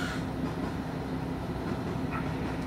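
A JR Kyushu Hitahikosan Line train departing from Kokura rumbles steadily nearby with a low, continuous rolling noise and faint rail clatter, no voices over it.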